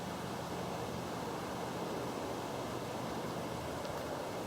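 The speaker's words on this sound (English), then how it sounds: "Sounds like there's some sort of waterfall in there." A steady, broadband rush of falling water, constant and unchanging like a waterfall heard from some distance.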